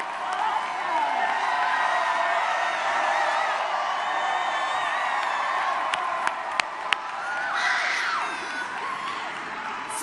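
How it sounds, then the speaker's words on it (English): A large crowd at a Philadelphia political rally cheers, whoops and applauds for young first-time voters, a steady roar with shouting and scattered claps lasting about ten seconds, heard from a distance. "Let's applaud them."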